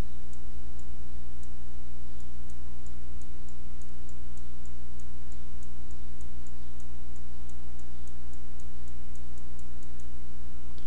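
Regular clicking from drawing with a small white brush in Photoshop CS6, a steady series of light ticks over a constant low hum, with no talking.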